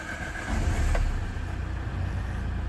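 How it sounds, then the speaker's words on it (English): Diesel engine of a 2006 Saab 1.9 TiD Vector Sport cranking and catching, then settling into a steady low idle close by, with no talking. "Let's start her up and have a listen."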